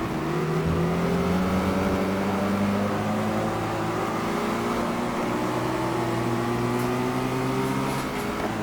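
A car in a driving simulator game accelerates steadily, its engine drone climbing in pitch and staying loud and continuous throughout, with no voices over it.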